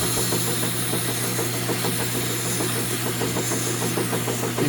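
A power sander with fresh sandpaper runs steadily, taking old grease off a part while replacing grease fittings on a Suzuki LT 70, with a constant motor drone and a faint rapid pulsing close by.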